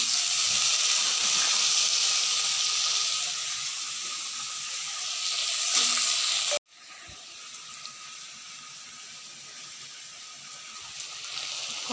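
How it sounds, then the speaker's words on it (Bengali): Washed, wet taro stolons hit frying onions in a wok and set off a loud, close hiss of sizzling oil and steam that cuts out abruptly halfway, leaving a quieter, steady sizzle with no voices. "কড়াইতে লতিটা দিলাম। লতিটা দিয়ে পেঁয়াজের মধ্যে একটু নাড়াচাড়া করে নিলাম"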